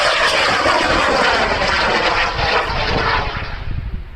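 Ignition and launch of a high-power amateur rocket on a CTI solid motor at a rocketry competition, a loud, broad roaring rush that holds steady and then begins to fade as the rocket climbs away.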